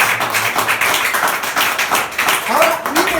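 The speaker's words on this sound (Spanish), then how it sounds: "Si lo va a aplaudir, apláudalo con ganas." A congregation claps during a Spanish-language church sermon, an uneven rhythmic patter of hands at moderate loudness with a brief voice or tone near the end.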